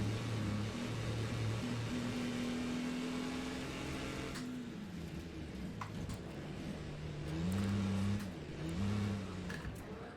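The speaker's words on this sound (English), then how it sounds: "I love the sound of the motorhome. Just listen to that engine." A motorhome engine drones and revs in Wreckfest 2, its pitch rising and dipping through several throttle changes, fairly loud and steady.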